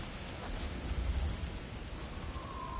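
A heavy rainstorm from the video game God of War Ragnarok, set in a desert in Alfheim: dense, steady hiss of pouring rain with low rumbling underneath, continuous and loud with no voices.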